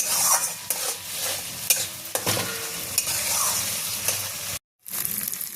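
Stuffed potato curry being stirred and fried in a pan: a spatula scrapes and turns the mash in repeated strokes over a continuous sizzle, close and fairly loud, with a brief silent gap near the end and no talking.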